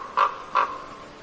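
A seagull at the seaside gives two short, harsh calls in quick succession, fairly close and clear above quiet background noise.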